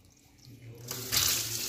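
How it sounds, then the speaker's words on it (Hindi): Water starts flowing from a Kent RO water purifier after it is switched on, rising from quiet into a steady, close hiss of running water with no voices. "पानी चालू।"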